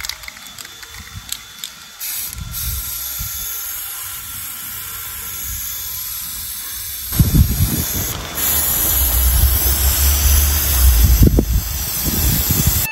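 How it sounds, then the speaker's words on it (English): White spray paint hisses from a can onto frames in long steady bursts, punctuated by clicks and rattles of the can, with no talk. "we're just going to spray these frames white"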